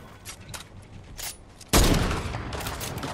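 Gunfire in the Fortnite video game: a few light scattered shots, then a loud burst of rapid firing that stays dense and sustained to the end, with no talking.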